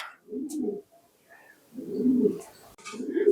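Mundian fancy pigeons coo softly and close by in a few low, throaty bursts separated by short pauses.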